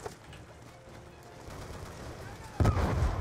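Gunfire in Call of Duty: Black Ops 2, distant rattling shots under a building battle din, then a loud, close burst near the end, with voices faintly mixed in.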